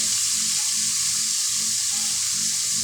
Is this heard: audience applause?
no